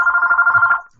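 A mobile phone rings indoors during a digital cake sketching session, one steady electronic ringtone tone pulsing for about a second before cutting off, with no talk over it.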